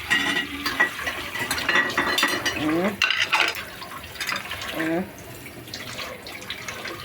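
Children wash dishes at a sink with running water and soapy foam, with steady splashing and clinking of dishes close by, while young voices chatter over it.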